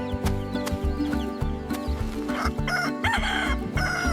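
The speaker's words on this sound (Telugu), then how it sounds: "అదొక కోడి. కోడిని ఇంగ్లీష్లో చికెన్ అంటారు" A farm rooster crows, its drawn-out call rising over a busy, close-up background of clucking and other animal noises, with no talking.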